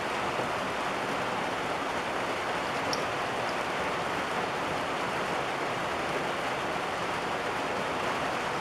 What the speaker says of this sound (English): It's the rain starting to come, and we're supposed to have this huge storm coming in any minute